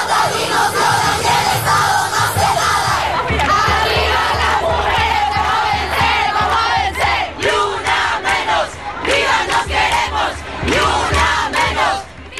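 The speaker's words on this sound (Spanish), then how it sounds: "Fueron miles de voces gritando al unísono, consignas a favor de la vida y la libertad de las mujeres." Thousands of marchers at a women's rights protest in Ecuador chant slogans in unison, a loud, dense crowd roar with rhythmic shouted bursts that continues throughout.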